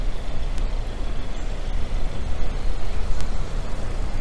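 A 2018 Kia Optima's engine idles nearby with a steady, low rumbling drone. No one speaks.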